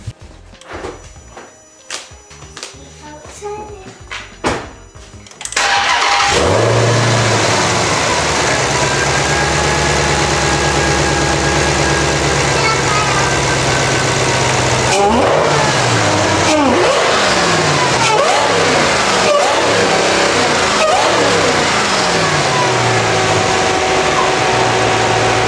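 A stock-intake Dodge Hellcat Redeye with its supercharged engine starting up, settling into a loud steady rumble, then revving repeatedly in sharp rising and falling bursts, close and alone with no talk.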